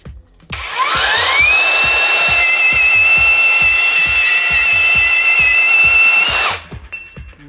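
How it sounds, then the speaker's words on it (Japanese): A HiKOKI 36V cordless band saw, model CB3612DA, cuts through steel scaffolding pipe, its motor spinning up to a steady high whine with a ringing tone and then winding down near the end, loud and close with no talk. "あっという間に単管が切断できますね。"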